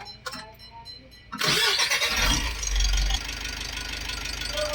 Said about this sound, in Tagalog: tapos start ko na itong makina